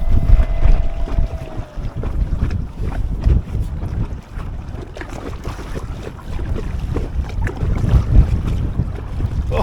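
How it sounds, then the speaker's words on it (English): Strong wind buffets the microphone out on Ladybower Reservoir from an Aquaglide Chelan inflatable kayak fitted with a Hiqmar e-Fin motor, a steady blustery roar with low rumbling gusts and faint water wash throughout. "Oh, it is windy."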